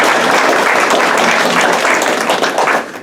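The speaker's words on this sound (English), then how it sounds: "You can clap for him, that's okay." A banquet crowd at an EMS gathering claps for the organization's president, Roger Favreau, as he comes forward, with loud, sustained applause filling the room before tapering off at the end.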